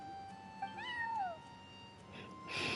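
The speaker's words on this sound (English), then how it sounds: "that's my neighbor's cat" A cat meows in the video game Genshin Impact, one short rising-then-falling meow heard alone over a quiet music bed, followed by a soft rustle and a brighter hiss at the end.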